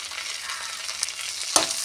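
Garlic pieces frying in hot oil with mustard seeds, cumin and dal, a dense close sizzle that runs throughout, with a single brief scrape near the end.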